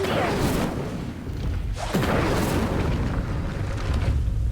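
The Incendio fire spell cast in Hogwarts Legacy on the Switch, a loud whooshing burst of flame with boomy, rumbling impacts sustained across the moment, with a voice calling out over it.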